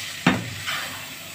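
Rice is stirred in a pan while it fries with fish stock. A single sharp scrape or clack of the utensil is followed by a softer second scrape over a faint, steady sizzle.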